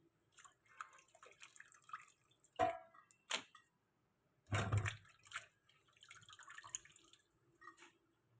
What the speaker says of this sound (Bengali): অনেক বাসন পড়ে আছে। ভালো করে ধুই